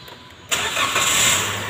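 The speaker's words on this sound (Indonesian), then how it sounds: "Sekarang kita hidupkan lagi engine." A Daihatsu Xenia Great New engine starts at about half a second with a short crank and catch, then settles into a steady, fairly loud idle that runs to the end. Nobody speaks.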